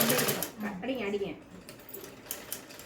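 A sewing machine stitches a blouse in a quiet rapid whir, with a voice speaking over it.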